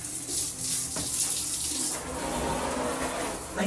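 Shower water running steadily, a close, continuous hiss and splash of spray with slight fluctuations and no other sounds.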